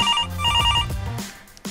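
A telephone at a traditional roofing and building business rings with a repeated electronic ringtone at moderate loudness, pulsing in short bursts amid some room noise.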